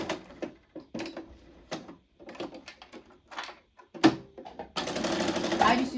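A sewing machine stitching a spiked headband with a standard stitch runs in a steady, close whirring burst near the end, after a series of short mechanical clicks and taps with brief talk between them.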